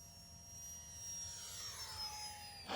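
A UMX Viper FPV RC sport jet flies with a thin, high electric ducted-fan whine. The pitch slides steadily downward as it passes, faint and steady, with no talking.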